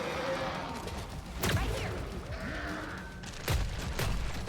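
A video game boss unleashes an explosion attack during a solo sewers run, with two sharp, loud booming blasts about two seconds apart over a dense, noisy combat backdrop and faint voice.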